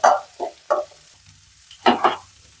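Shallots and garlic being stirred in a hot pan, giving short bursts of sizzle and scraping in an uneven rhythm with quiet pauses between strokes, close and fairly loud.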